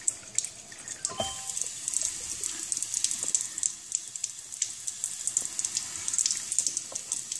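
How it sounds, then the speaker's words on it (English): Alkaline ionized water from a home ionizer machine pours into a glass at close range, a steady bright trickle with scattered drips and splashes running throughout. "Fills up my glass."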